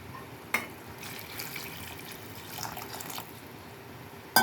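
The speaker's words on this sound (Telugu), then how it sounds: "కొంచెం వాటర్ పోసుకుంటాను" Water poured into a pot of simmering tamarind stew: a soft, steady splashing pour lasting a few seconds, close and fairly quiet, with a light clink at the start and end.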